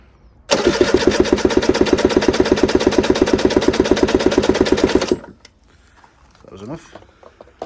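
An Aprilia RS125 two-stroke engine cranked on the electric starter with the throttle held wide open, a rapid, even chugging that runs loud and close for about four and a half seconds, then cuts off abruptly.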